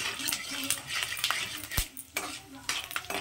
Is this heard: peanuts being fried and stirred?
yes